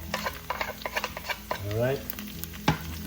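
Garlic, onions and tomatoes being sautéed in a pan for a Filipino daikon radish dish, with stirring scrapes and clinks over a soft sizzle, plus a brief spoken word and a sharp knock near the end.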